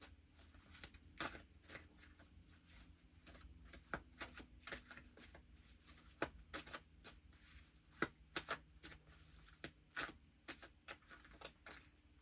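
A deck of cards shuffled repeatedly, crisp riffling bursts recurring at an uneven rhythm, close and fairly quiet with no talk.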